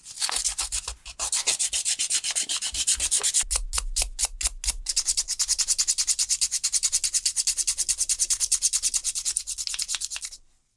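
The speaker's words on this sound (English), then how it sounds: "I think I'm just going to do it all by hand with sandpaper" Sandpaper rubs by hand over the wooden knob of a plane, stripping the old varnish in loud, close, rhythmic strokes that are slow at first, then quick and even, before stopping abruptly.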